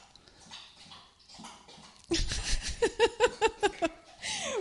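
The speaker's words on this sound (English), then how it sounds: "The dog's just having a drink of water." A dog laps water with quick, rhythmic wet slurps, close and fairly loud after a quieter stretch of background noise.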